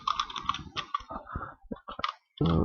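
Fast, uneven typing of HTML code on a computer keyboard, close clicking keystrokes in bursts with brief pauses, no voice.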